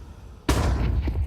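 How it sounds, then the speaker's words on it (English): A flashbang grenade goes off in a professional Counter-Strike match at the IEM Rio 2024 tournament: after a quiet moment, a single sudden sharp bang hits and leaves a rough ringing noise. "Flashbang."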